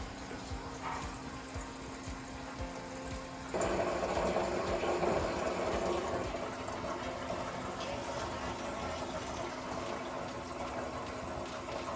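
An upgraded, bigger fuel pump runs in a Mercedes fuel system test, a steady mechanical whir with liquid flow that grows louder and busier partway through and then holds a continuous drone.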